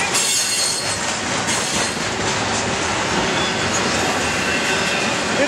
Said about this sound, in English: It's got a locomotive back there.